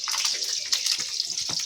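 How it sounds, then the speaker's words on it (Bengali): Mustard seeds and curry leaves crackle and sputter in hot oil, a dense, bright hiss with rapid popping bursts, close and steady over a short stretch. "তেল পুরো চটপট চটপট করে উঠেছে।"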